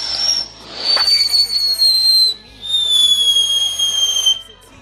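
Fourth of July fireworks go off with a sharp crack, then shrill whistles glide slowly downward over a hissing bed, ending in a second long whistling sweep that fades out.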